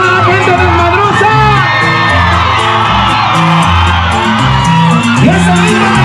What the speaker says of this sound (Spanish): ¡Que se escuche ese grito de la gente desmadrosa!